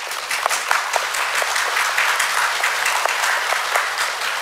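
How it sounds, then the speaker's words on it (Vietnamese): A gathering of senior Buddhist monks applauds a woman's proposal at a Hmong justice rally, steady, sustained clapping from a sizeable group with distinct sharp claps standing out across the whole stretch. "Đề nghị của bà nhận được nhiều tiếng vỗ tay từ các thượng tọa."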